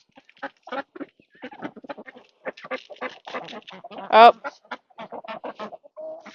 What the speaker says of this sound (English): These chickens are mean and they'll get their food